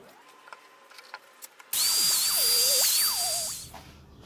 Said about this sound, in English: We just have to make sure we drill the correct face.